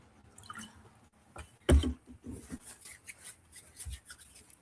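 Water splashes and drips as it is poured and rubbed over hands during a Kemetic ritual washing, close and fairly quiet, with a few brief wet bursts and soft rubbing between them.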